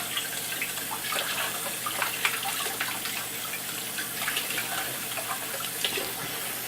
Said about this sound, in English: you're going to clean it off by turning on the water